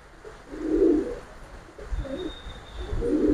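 Giribaz and coloured pigeons coo in low, soft, throaty bursts close by, three rolling phrases with short pauses between them and no voices.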